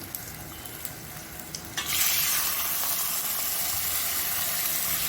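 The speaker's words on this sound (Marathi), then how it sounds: "ज्या वाटीने आपण रवा घेतला त्या वाटीनेच आपण तीन वाट्या पाणी घालणार आहोत पाणी उकळलेलं आहे गरम" Hot boiled water poured onto roasted semolina for upma: soft stirring and clatter at first, then a sudden loud burst of hissing sizzle that settles into a steady, close steaming hiss, with no voices.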